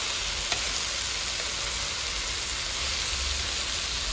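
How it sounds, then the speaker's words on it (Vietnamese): Blanched Chinese greens (broccoli) stir-frying in a hot pan give a steady, close sizzle and crackle with a faint clink near the start, running evenly throughout with no talk. "Nó hơi chín chút xíu rồi xong thì mình xào này cho nó nhanh"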